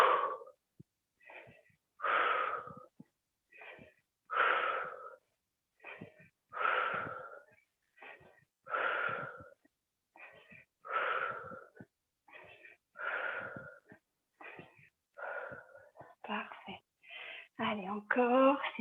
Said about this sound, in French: Allez, soufflez. Ouais, soufflez bien.